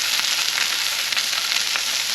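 Salmon fries in a pan after being turned over, with small extra pieces added, a bright, steady sizzle that stays close and loud throughout with no talking.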